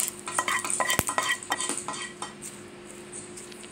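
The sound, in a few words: stirring tempering into chutney powder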